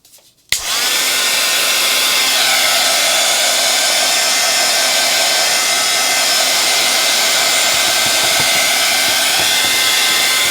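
A heat tool blows hard and steady over a mixed media animal portrait painting, switching on abruptly after a brief quiet and then holding a loud, constant whirring roar with no voices.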